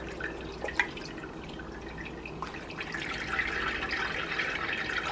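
Broth from shredded pork drips and trickles through a straining cloth, a soft, continuous liquid patter with a few brighter drops near the start and a slightly fuller flow later on.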